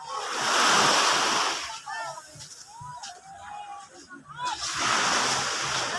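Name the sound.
sea waves at Anilao, Mabini, Batangas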